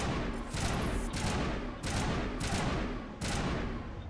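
Gunfire in Mass Effect comes as sustained automatic bursts, four loud dense volleys separated by brief pauses, close and unbroken by talk.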